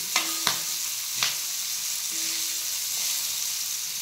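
Green chillies roast in a hot pan, a steady close sizzle with a few sharp clinks of a utensil against the pan near the start and no talking.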